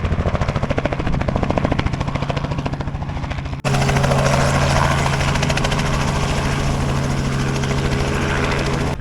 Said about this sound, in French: on a quand même fait appel à un hélicoptère pour le rapatrier